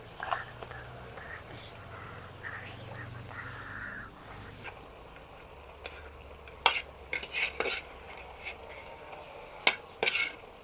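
Pieces of fish fry softly in a pan in a village kitchen and are turned over, with scraping stirs and clinks over a low sizzle, plus a few sharper knocks toward the end.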